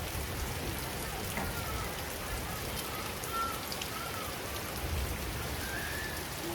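Steady rain runs down a house window and patters on surfaces, an even, moderately quiet hiss with scattered drops and faint tonal sounds in the background.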